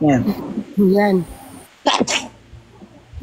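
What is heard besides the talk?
sneeze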